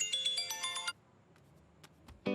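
Phone ringtone during an outgoing call, a bright electronic trill lasting about a second, followed by quiet clicks and the start of another burst.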